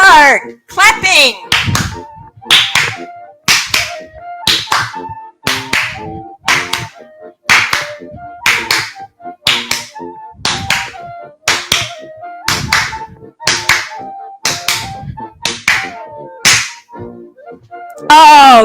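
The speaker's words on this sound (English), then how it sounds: "Third part, clapping." Crisp, regular hand claps land in a steady beat over dance music, close and loud, with sharp spaced strikes throughout.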